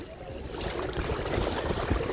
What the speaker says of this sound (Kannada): ಅಲ್ಲೊಂದು ಬೋಟ್ ಬರ್ತಾ ಇದೆ, ಸೌಂಡ್ ಮಾಡ್ಕೊಂಡು ಬರ್ತಾ ಇದೆ ಬೋಟು